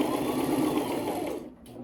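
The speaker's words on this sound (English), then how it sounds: "Let's sew it." Sewing machine running steadily as it stitches a double wedding ring quilt, a close continuous whirring hum that trails off near the end.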